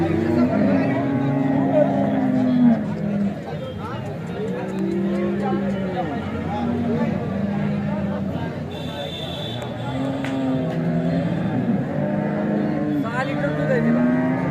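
A Jersey cow at the Alephata cattle market in Maharashtra lows repeatedly, its drawn-out moos rising over a busy crowd with people talking nearby throughout.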